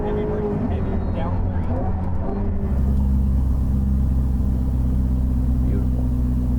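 A Porsche 992 GT3 RS is driven hard on a track, its engine a loud, sustained in-car roar that swells and deepens under full throttle, with a voice talking over it at the start.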